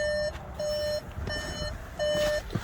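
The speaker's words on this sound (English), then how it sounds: "I apologize for that beeping, but that's how the car's designed. The ignition's on and the door's open." Door-open, ignition-on warning chime from a 2022 Volkswagen Atlas 3.6 SEL 4Motion. Three sustained electronic beeps repeat at a regular pace, nearby and clear, with some light handling noise between them.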